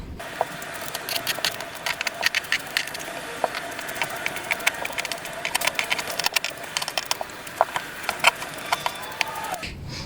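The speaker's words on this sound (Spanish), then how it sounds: "Ahorita ya podemos cortar así tal cual nuestra parte delantera" Scissors cut the front piece of a men's bathrobe pattern from fabric. They make a run of close, crisp snips and clicks, irregular but steady, with no talking.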